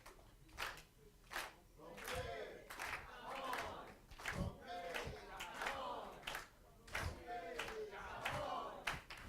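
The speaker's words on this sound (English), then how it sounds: "I'm gonna ask the DJ to start the clapping" An audience at a poetry and music show claps a steady beat in unison, sharp regular hand claps with crowd voices and talk mixed in between.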